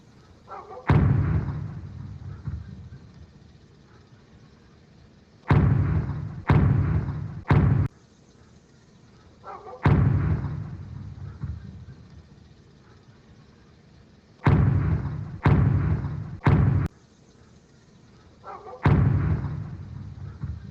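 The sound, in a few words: gunfire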